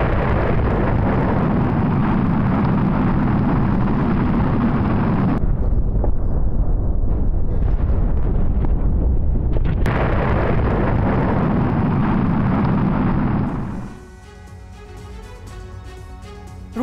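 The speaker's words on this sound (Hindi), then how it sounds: "रूसी सेना के ठिकाने पर भीषण बमबारी हो रही है।" Heavy bombardment of Russian army positions during a Ukrainian attack, heard as loud, continuous rumbling blasts with a brief thinner stretch in the middle, giving way to music near the end.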